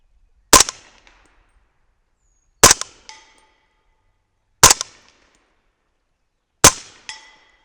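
A 300 Blackout rifle fires powder-coated bullets loaded with Reloder 7, making four sharp, loud shots spaced about two seconds apart outdoors, each with a short metallic ring after.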